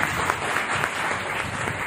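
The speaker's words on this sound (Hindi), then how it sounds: "लेकिन आपकी तालियों का शोर भी होना चाहिए" Audience applause at a women's day club event in Budaun, a steady wash of clapping from a crowd throughout the short stretch, fairly loud and even.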